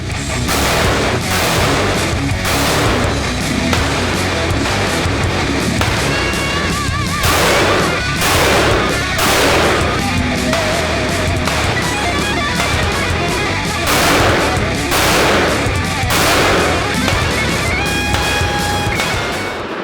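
SIG Sauer M17 pistol firing at a range, loud sharp reports in irregular clusters and rapid strings, close and harsh against a constant noisy background.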